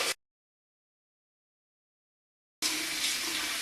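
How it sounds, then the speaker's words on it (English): Hot tap water runs from a bathroom sink faucet down the drain during a safety-razor shave rinse, starting abruptly after near-silence as a steady, close splashing rush. "So let the water run down the drain, and we'll perform a hot water rinse."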